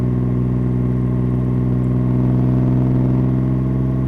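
Kawasaki ZX-6R sport motorcycle fitted with an aftermarket exhaust, riding at night on back roads; a loud, steady engine drone holds an even pitch throughout, close and continuous with no talk.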